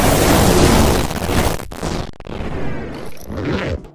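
A firework explodes in the video game Animal Company, a loud booming burst that rumbles and crackles for about a second and a half, followed by quieter scattered pops and thuds.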